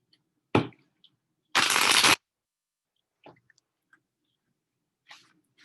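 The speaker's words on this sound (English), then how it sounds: "one more shuffle and away we go" Tarot cards are shuffled by hand, with a brief riffle followed by a longer, louder burst of shuffling up close, then scattered soft card taps and handling noises in an otherwise quiet room.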